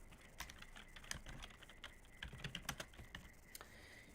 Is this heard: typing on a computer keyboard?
yes